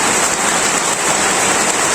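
Heavy daytime rain pours steadily in a Bangladeshi village, a dense, continuous hiss with no pauses and no voices.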